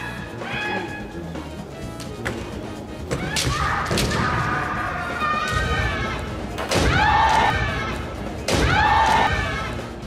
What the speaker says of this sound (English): explosive and pleasant sound when the Hiki men strikes